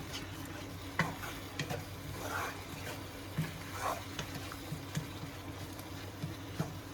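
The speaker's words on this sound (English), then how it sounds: "So right now I will be adding 1 teaspoon of ginger, 1 teaspoon of garlic together. Just give it a quick stir." Ginger and garlic stirred in a hot pan, a faint low sizzle with occasional soft taps and scrapes from the spoon, quiet and close.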